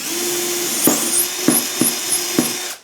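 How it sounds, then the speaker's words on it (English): An electric drill bores 3mm holes through a Parf Guide System workpiece, whirring steadily with several sharp catches and squeals as the bit cuts, then stopping abruptly. "So we've finished drilling all of the 3mm holes"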